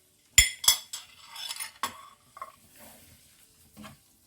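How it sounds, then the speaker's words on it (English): Chopped tomatoes tipped onto golden fried onions in a pan for butter chicken, with sharp metallic clanks of a utensil against the pan followed by softer scraping and light stirring sounds, close and fairly quiet. "I'm going to put the roughly chopped tomatoes in it"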